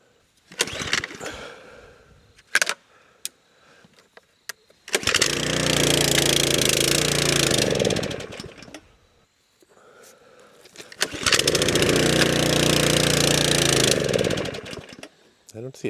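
A gas-powered brush cutter string trimmer revving in two long, loud roaring bursts, with idle gaps and handling clatter between them; a person speaks during the quieter stretches.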